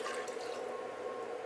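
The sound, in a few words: pouring a can of water into cream of mushroom soup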